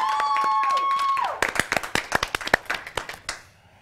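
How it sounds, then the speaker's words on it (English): An audience breaks into clapping after a sustained tone fades, a burst of sharp, fairly sparse claps that thins out and stops within a couple of seconds. "Clap that up."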